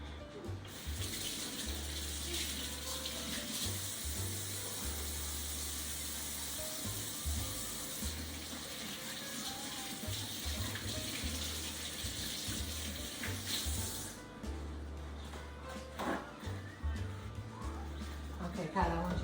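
Hands being washed under a running kitchen tap during cooking, a steady hiss of flowing water that lasts about fourteen seconds before shutting off, with a voice speaking intermittently over it.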